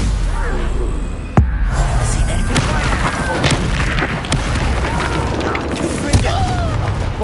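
Confringo and Bombarda spell blasts in Hogwarts Legacy burst in a string of loud booms and thuds, with sharp cracks scattered through a dense rumble of combat.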